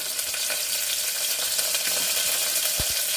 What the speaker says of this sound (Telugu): ఆనియన్, అల్లం వెల్లిపాయ పేస్ట్ కొంచెం ఫ్రై అయినాయి